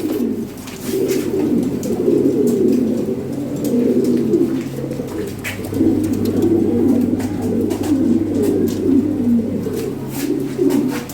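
Red Lahori fancy pigeons coo in repeated low, throaty phrases, close and fairly loud, with a steady hum behind them and brief gaps between bursts.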